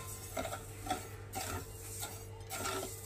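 A spoon gently stirs sugar syrup of water, sugar and cardamom in a pot, making soft, faint scraping strokes at a steady, unhurried pace over a low background hum.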